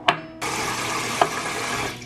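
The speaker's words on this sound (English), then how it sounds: "I'm just gonna run under some hot water" Hot tap water runs from a faucet into a bowl as a steady, fairly loud hiss that starts abruptly after a brief clink, with a small knock partway through and no talking.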